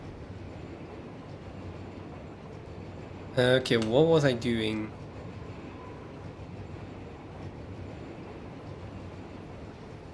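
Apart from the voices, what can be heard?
train passing in Satisfactory video game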